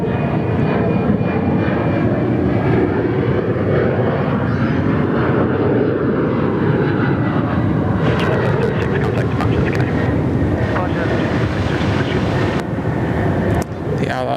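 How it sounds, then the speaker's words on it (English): A National Jet Express Embraer E190 jet at Perth Airport roars loudly and continuously, a broad rumbling engine noise with a shifting whine as the aircraft passes close by, briefly broken by a few sharp clicks near the end. "The National Jet Express E190."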